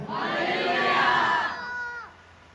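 A large crowd shouts together in one loud, sustained cry that rises, holds, and trails off after about two seconds.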